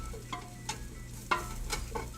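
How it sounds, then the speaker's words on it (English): Soup cooks in a pot with a steady, soft sizzle while a utensil stirs and knocks against the sides in several sharp taps, close and fairly quiet, with no talk. "like the sizzling and the mixing"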